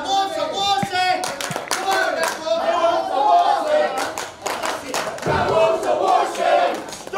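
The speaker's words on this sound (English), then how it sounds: "You can listen to the crowd here and listen to how they go at him." A crowd at an Australian wrestling show shouts, jeers and claps in bursts, with chanting voices and applause rising and falling around the ring while a commentator talks over it.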